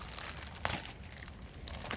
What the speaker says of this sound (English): You got a plastic bag there.